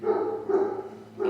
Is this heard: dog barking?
yes